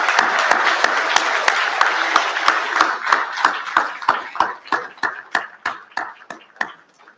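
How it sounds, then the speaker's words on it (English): Audience applause for 8th grade students at a school recognition ceremony, a full round of clapping that thins into a few separate rhythmic claps as it dies away. "If we could give a round of applause for our 8th grade children, that'd be great"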